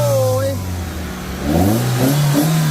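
A Toyota Soluna car accelerating hard, the engine note climbing then dropping through a gear change before rising again, close and fairly loud, with some talk nearby.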